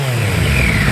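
A Triumph Daytona 955i café racer engine with the exhaust baffle fitted gives a loud, close, continuous rev. The pitch rises slightly over a single second, with no talk.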